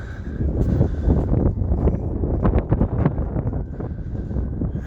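Steady wind gusting across a seaside pier at very low tide, a continuous broadband rush with buffeting against the microphone throughout, fairly loud and with no talk.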